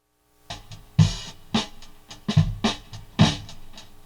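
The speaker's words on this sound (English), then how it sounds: "We also recorded this spring reverb to sort of give it that 60s feel" Sparse drum hits, kicks and snare strikes in a loose rhythm, recorded through a spring reverb for a 1960s feel, each followed by a splashy, metallic reverb tail that lingers between beats.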